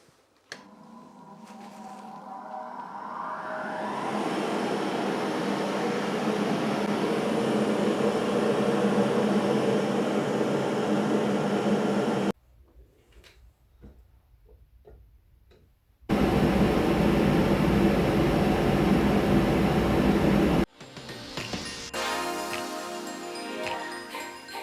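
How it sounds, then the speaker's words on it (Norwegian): Grinding off red paint on steel scrap for a bar-stool table built from a brake disc, with welding alongside: a loud, steady abrasive roar in two long bursts separated by a quieter gap, then a whining spin-down. "da har jeg sveiset og slipt den røde malingen på"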